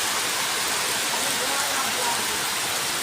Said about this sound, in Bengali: বৃষ্টি হচ্ছে আমাদের এখানে, প্রচণ্ড বৃষ্টি হচ্ছে।